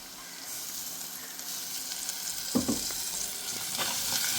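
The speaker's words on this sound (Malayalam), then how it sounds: "അതോളം ഇങ്ങനെ ഇളക്കി കൊടുക്കാം" Garlic, ginger and shallot paste frying with softened onions, stirred steadily in a pan for a spicy boti curry; a continuous close sizzle with louder scraping stir strokes breaking through near the middle and again toward the end.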